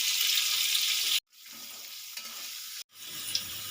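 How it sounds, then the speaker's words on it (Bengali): Potatoes with a little turmeric powder fry in hot oil in a steady, loud sizzle, broken by two short silent gaps. "এবারে আলুর মধ্যে দিয়ে দেবো অল্প পরিমাণে হলুদ গুঁড়ো, দিয়ে আলুটা আমি ভালো করে লাল লাল করে ভেজে নিই"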